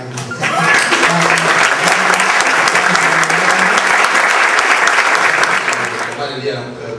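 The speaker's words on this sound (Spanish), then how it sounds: "Quiero pedir un fuerte aplauso para todas las mujeres que están aquí presentes." Loud, sustained audience applause fills a municipal council ceremony honoring distinguished women, a dense wash of clapping starting abruptly, holding steady for several seconds, then tapering off.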